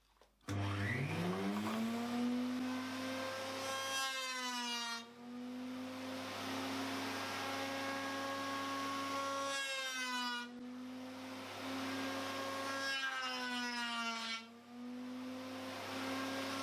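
A big elliptical half-round cutter in a router rounds over the top edge of Queensland fiddleback maple, giving a loud, steady high whine that runs on and off in long passes, with no voices.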